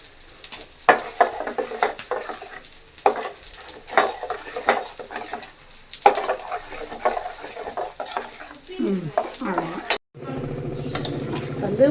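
A spoon stirs and scrapes through Tamil fish curry in a pan in irregular bursts, with soft sizzling from the pan. Near the end, liquid is poured in and starts to bubble.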